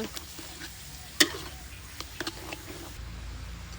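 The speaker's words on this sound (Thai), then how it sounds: "ผัดเลยทีนี้ผัดเลย" Curry ingredients, including plenty of onion, are stir-fried in a pan with a soft continuous sizzle and sharp scraping clicks of a utensil at irregular moments.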